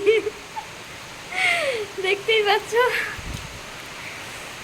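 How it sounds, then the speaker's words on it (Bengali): Heavy rain falls during Cyclone Remal, a continuous broad hiss filling the background while a person speaks briefly over it. "প্রচুর বৃষ্টি হচ্ছে, দেখো"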